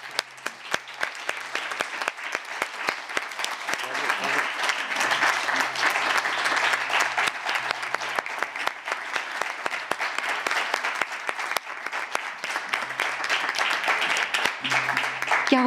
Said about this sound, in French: Je vous remercie d'un tonnerre d'applaudissements,